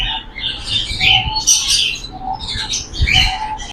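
Fancy and imported birds, pigeons and doves in a bird shop chirp and tweet busily, with steady overlapping calls and low cooing close by.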